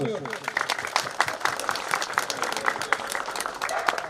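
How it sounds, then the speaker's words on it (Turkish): Applause from a small group at a veterinary clinic opening, quick scattered claps rolling along steadily with voices mixed underneath. "Alkışlıyoruz."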